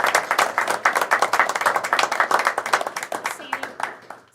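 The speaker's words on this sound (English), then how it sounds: "I would like to give you a round of applause." People at a board meeting give a round of applause, a brisk run of distinct claps close by that goes on steadily for several seconds and then fades.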